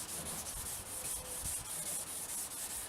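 Sandpaper rubs by hand in quick, steady back-and-forth strokes across an oxidized plastic car headlight, a soft rhythmic scratching close to the microphone with no voices.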